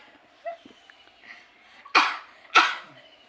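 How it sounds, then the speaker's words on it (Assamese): Two sharp, loud coughs from a person complaining of a cough after drinking cold water in cold weather, arriving close together near the end after a few faint smaller sounds. "মোৰ কাহে লৈছে"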